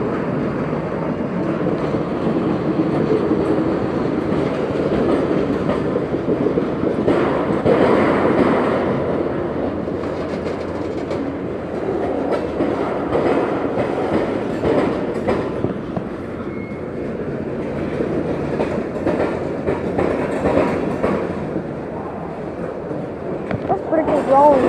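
A Canadian Pacific boxcar freight train rolls slowly past toward Winston Yard in Plant City, Florida, a steady loud rumble with wheels clacking over rail joints. People talk over the noise now and then.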